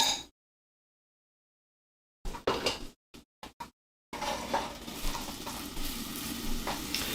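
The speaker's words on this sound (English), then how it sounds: "So we are going to just soften the onions." Onions soften in a hot pan while being stirred, giving short bursts of clatter and sizzle after a silent gap, then a steady close sizzle with light scraping to the end.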